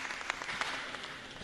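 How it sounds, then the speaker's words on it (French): An audience at a general assembly gives a brief round of applause for a speaker, a soft, fairly distant patter of clapping that fades quickly. "On applaudit encore pour monsieur."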